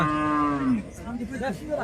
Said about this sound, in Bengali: অলেস্টিয়ান ফ্রিজিয়ান জাতের এই গাভি গরুটা